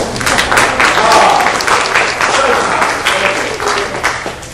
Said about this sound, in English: A little smattering of applause.